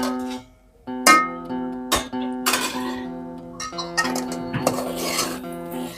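A spatula stirs potato curry in a metal pan: a run of sharp clinks and scrapes at an irregular pace, close and fairly loud, with no talking.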